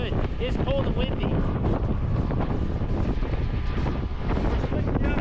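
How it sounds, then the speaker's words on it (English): Cold wind gusting across a mountain top, a steady roar of buffeting noise against the microphone that stays loud throughout, with faint voices underneath. "It's cold and windy."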